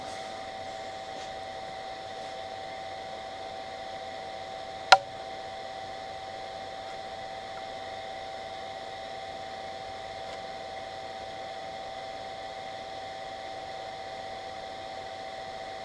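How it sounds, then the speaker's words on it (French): An electric fan runs steadily beside a small hot-running motor in a home workshop, giving a constant whirring drone with a faint tonal hum and one sharp click partway through. No one speaks. "J'ai mis le ventilateur parce que c'est un moteur qui a tendance à chauffer énormément."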